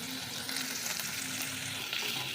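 Masala for egg curry, with a half spoon of mutton masala added, sizzles steadily in a pan, a dense close frying hiss with faint stirring and no talk.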